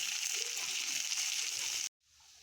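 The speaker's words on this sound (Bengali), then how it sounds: "পেঁয়াজটা আমরা ভেজে নেব।" Chopped onions frying in hot oil in a pan alongside lightly fried potatoes, a steady bright sizzle close up that cuts off abruptly near the end, then a faint hiss returns.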